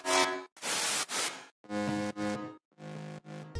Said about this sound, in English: You basically layer some saw chords with white noise like this.